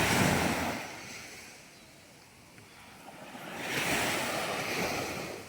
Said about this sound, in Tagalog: Lapit na tayo sa tabi ng dagat.